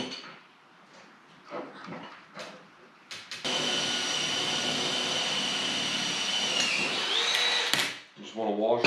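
A drill whines through chassis parts for a dirt late model race car body support, one sustained high-pitched bore of about four seconds with pitch shifting near the end, framed by shop talk before and after.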